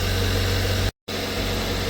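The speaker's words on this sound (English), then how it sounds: "let's turn on the engine" A car engine runs close and loud at a steady idle, broken by a brief silent gap before the rough running picks up again.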